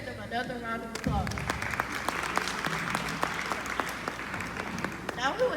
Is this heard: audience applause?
yes